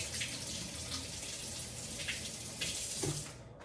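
Running tap water steadily rinses an item in a kitchen sink, a continuous close splash and gush that fades out near the end.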